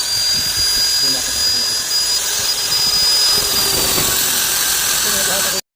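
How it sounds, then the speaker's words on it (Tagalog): A rotary carbide grinder works on a transmission gear from a Sinotruk, giving a loud, continuous high-pitched whine and grinding roar up close, cutting off abruptly at the end. "So ganito ang ginagawa natin guys gamit ang rotary carbide grinder."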